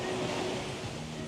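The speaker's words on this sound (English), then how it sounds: "And the waves, like the sound of the waves." Ocean waves wash onto a beach in Grenada, a close, steady, broad roar of surf with no voices.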